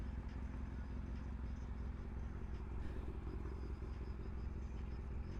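Kawasaki ZX6R motorcycle engine runs with no gas cap fitted, a faint, steady low rumble at idle with nothing else heard.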